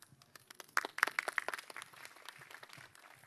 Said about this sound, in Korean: 질문 자체가 큰 박수를 받고 있네요